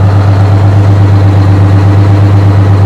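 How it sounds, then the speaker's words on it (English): A hot rod's twin-supercharged 12V71 diesel engine with an Allison automatic idles loudly and steadily, a deep throbbing rumble with no pause. "This thing has the big 12 V71 deep front with twin superchargers and an Allison automatic behind it."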